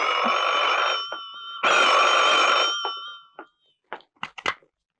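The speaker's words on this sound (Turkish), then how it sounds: "Telefon." A telephone bell rings twice in long, loud trilling bursts with a short gap between, followed by a few clattering knocks as the receiver is picked up.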